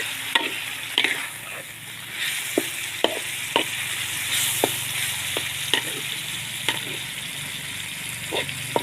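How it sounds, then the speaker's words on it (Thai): Pork stir-fried over high heat for Thai pad kaprao, a continuous close sizzle broken by regular sharp spatula scrapes and knocks roughly every half second, with no talking. "ใส่หมูเรียบร้อยแล้วนะคะ เราก็จะผัดคนให้ทั่วให้หมูสุกนะคะ"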